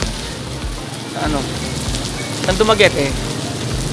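Rain falls steadily around people stranded outdoors on the way to Dumaguete, a soft continuous patter with a voice speaking over it.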